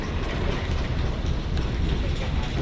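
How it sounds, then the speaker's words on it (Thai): Steady rain falls on a rainy morning at an outdoor site, a dense, constant broadband hiss that holds at an even level throughout with no clear breaks or voices. "ตอนเช้านี้ ก็ฝนตกอยู่นะครับเนี่ยถ้าเห็นบรรยากาศนี่ฝนตกอยู่"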